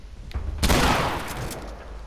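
A single sharp, loud gunshot in the video game The Last of Us Remastered cracks out with a brief echoing tail, set against a low background hum.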